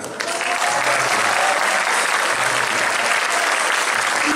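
Audience applause erupts for the bassist of a band at a memorial tribute concert, starting abruptly and holding as a loud, even wash of clapping.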